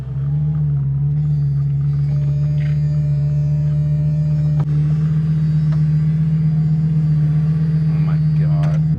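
A Lamborghini being rebuilt after parts theft, out on its first test drive as a complete vehicle, gives a steady, loud low engine drone throughout, with a brief jolt near the middle and faint voices in the background.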